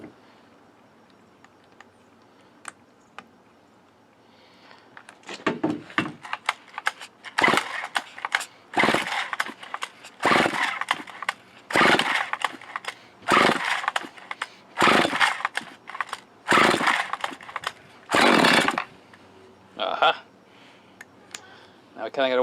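A chainsaw engine meant to power an air compressor starts and runs in repeated revving bursts, with throttle rising and falling roughly every second or two, loud and close after a quieter opening.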